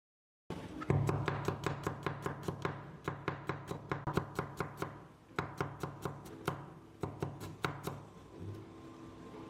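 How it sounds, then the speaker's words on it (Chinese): A knife taps rhythmically on a cutting board slicing garlic, dozens of quick, crisp slices in a steady pace, close and clear with no talking. "接下来我们要准备些大蒜，给它切成蒜片。"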